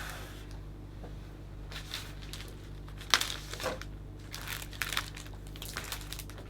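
A square of cellophane wrapping is handled and crinkled for a hand-tied Christmas flower bouquet, with close, irregular crackles and scattered sharp rustles over a low steady background hum.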